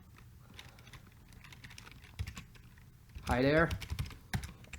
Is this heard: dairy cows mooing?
no